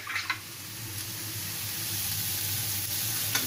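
Masala roasts in a pan for stuffed green chilli kuttu pakoras, giving a steady, even sizzle that holds at a constant level with a few brief scrapes near the start and end.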